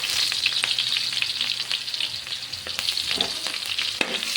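Garlic sautéing in a hot pan for pork hock paksiw, with a steady bright sizzle and occasional stirring scrapes, close and continuous with no talk.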